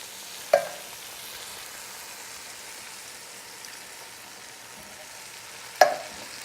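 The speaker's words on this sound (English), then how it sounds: "Stir this a little bit to make sure everything stops frying and it gets into that kind of stewing type phase." Tomatoes frying in a pot with a soft, steady sizzle throughout, broken by two sharp knocks of a spoon or utensil against the pot early and near the end.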